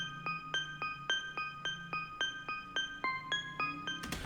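A dry trumpet melody programmed in FL Studio for an Afrobeats beat, with no effects applied, plays about sixteen short, bright notes in a steady bouncing rhythm. The pitch shifts slightly near the end, followed by a brief noisy burst.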